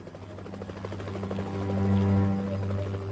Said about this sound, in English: The police helicopter has been rushed out of the repair bay.